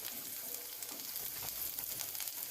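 Chopped onions sautéing in oil in a pan on a gas stove for kaleji fry, a soft, even hiss and crackle held steady throughout with no voices.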